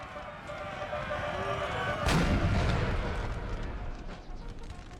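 Russian artillery firing on a Napoleonic: Total War 3 battlefield, a dense rumbling din of cannon and musketry with one sharp boom near the middle swelling into a low roll, while a voice talks over the battle.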